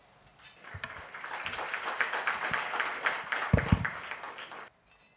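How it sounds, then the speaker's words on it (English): An audience at an airline executive association's annual general meeting gives a keynote speaker a burst of dense applause that swells quickly, holds for several seconds, then cuts off abruptly. "Everybody, a round of applause."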